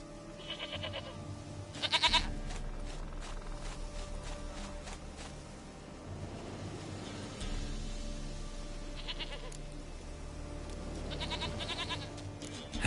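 Several goats bleat in The Witcher 3, sounding as a series of short, moderately loud cries spread through steady ambient game sound, with faint footsteps.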